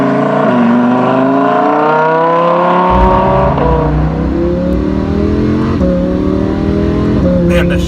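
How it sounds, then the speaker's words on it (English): Lamborghini Huracan engine revving hard under acceleration, pitch climbing in steady sweeps broken by several abrupt, rapid dual-clutch upshifts, loud and close throughout. "the shifts, you can hear them, the shifts are unbelievably fast"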